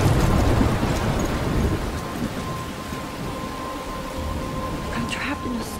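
Steady rain pours during a thunderstorm in the video game Life is Strange, with a deep rumble of thunder rolling at the start and then fading under the constant hiss of rainfall.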